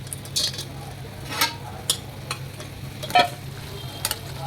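Chicken pieces being stirred into bubbling gravy for chicken 65, with a low simmering sizzle and a few soft, wet clinks and scrapes of a spoon in the pan, fairly quiet.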